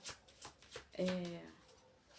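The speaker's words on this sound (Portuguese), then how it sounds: "Agora eu vou aqui com o baralho aqui da Maria Mulambo" A deck of oracle cards is shuffled by hand, with several soft riffling bursts, close and quiet, under a person speaking.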